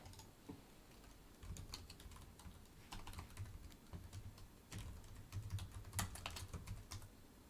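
Someone types on a computer keyboard during C++ programming, producing quick bursts of close key clicks with short pauses between runs.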